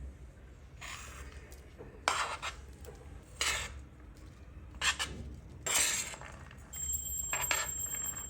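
A metal spoon clinks and scrapes against a bowl in several distinct bursts as fruit is added and mixed into chilled milk, with quiet pauses between them.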